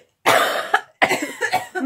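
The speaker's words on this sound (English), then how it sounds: "That's why I was coughing." Two bursts of coughing, close and fairly loud, from someone eating mushrooms coated in sriracha hot sauce, with a brief pause between the fits.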